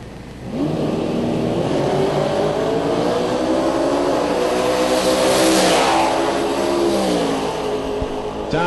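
A supercharged 1990 Mustang with a 347 cubic inch engine launches at a drag race, its engine roaring loud and steady as it revs up, holds and then climbs in pitch over several seconds.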